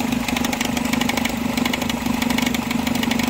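A Nissan Sentra engine idles with a worn belt tensioner, making a steady low drone with a fast, even rattling tick running through it, loud and close-up.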